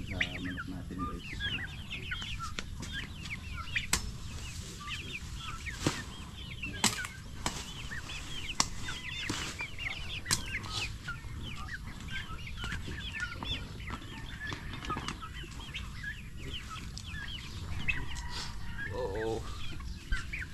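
Farm chickens cluck steadily in frequent short calls at moderate distance, with occasional sharp taps and a brief flurry of wing flapping, over faint background voices.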